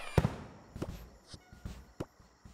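Several sharp, crackling firework pops go off one after another in the game Yeeps, a few distinct bangs spaced irregularly over a couple of seconds, fairly close and without talk.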